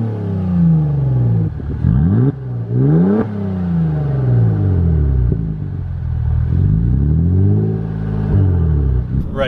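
A 2011 Saab 9-5 Turbo6 engine revs and accelerates through rising and falling gear sweeps, loud and close with a steady rumbling drone across repeated pulls.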